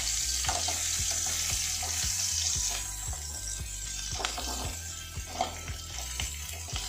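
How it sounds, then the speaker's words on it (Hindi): Potatoes and capsicum frying in oil in a kadhai, a steady dense sizzle with a spatula scraping and knocking against the metal pan in a loose repeating rhythm, close up with no speech. "यहाँ पे आलू फ्राई हो चुके हैं, शिमला मिर्ची अभी पक रही है"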